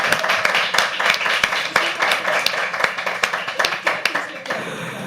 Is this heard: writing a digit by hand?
no